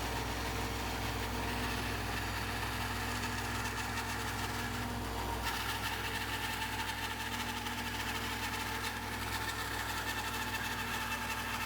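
Bandsaw resawing wood into shop-sawn veneer, a continuous droning motor hum with a steady blade whine and a brief shift midway as the cut begins, even and close throughout.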